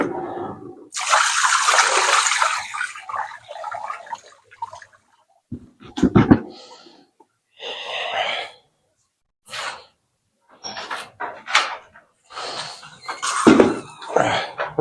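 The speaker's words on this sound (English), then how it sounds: "so a little hot water here" Hot water poured over frozen rags on a basement boiler in cold weather: a few seconds of loud, splashing pour, followed by scattered short splashes, drips and clunks separated by quiet gaps.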